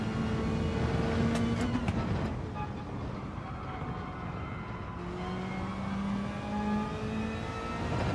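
Car engine in the racing game Gran Turismo 7 revving and holding high revs, a steady whirring drone with rising and falling pitch that runs continuously and evenly throughout.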